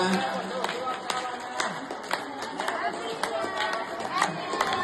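A crowd claps for New Year greetings in quick, uneven bursts of hand claps, with voices talking and chattering throughout.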